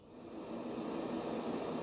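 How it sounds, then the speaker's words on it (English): A softer, lower-pitched deeper white noise setting from a small budget white noise machine fades in and holds as a steady, rumbling hiss. "deeper white noise,"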